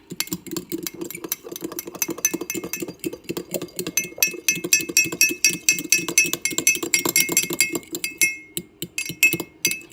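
Dry ingredients for Cheddar Bay-style biscuits, including dried parsley flakes, are stirred with a utensil in a bowl, giving a steady run of light clinks and scrapes close by, with no talking.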